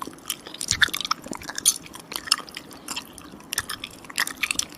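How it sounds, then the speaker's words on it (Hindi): Gum chewed close up with wet, sticky smacking and squishy clicks in an irregular steady rhythm, fairly quiet with no talk. "जो कि है च्युइंगम को चबाने का साउंड।"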